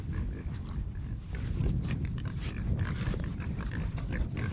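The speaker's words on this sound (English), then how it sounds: "Go get these pigs some milk" Pigs on a homestead grunting and snorting at close range as they are given milk, a continuous jumble of rough, loud animal noises with shuffling and scuffing throughout.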